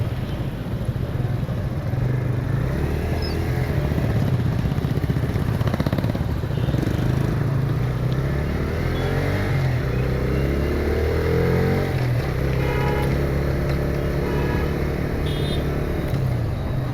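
Bajaj Freedom 125 CNG motorcycle ridden through city streets, its engine droning steadily and close with some rise and fall in revs, wind and traffic noise underneath and no talk.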